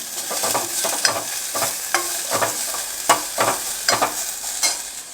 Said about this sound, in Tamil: கொஞ்சம் இஞ்சி பூண்டு பொடியாக கட் பண்ணி வச்சுருக்கிறேன் அதையும் சேர்த்துக்கலாம் ரொம்ப நேரம் ஃப்ரை பண்ணணுன்னு இல்லை சும்மா லைட்டாக ஃப்ரை பண்ணிக்கலாம்